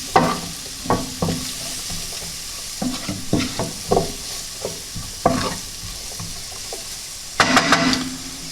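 A spoon scrapes and stirs Peri Peri seasoning and turmeric through rice in a hot pan, giving irregular knocks and scrapes over a low sizzle, with a louder clatter near the end.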